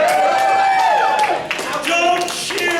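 A comedy-show audience at an alcohol-themed event cheers and claps loudly and steadily across the whole moment, with shouts and whoops rising over a continuous crowd roar.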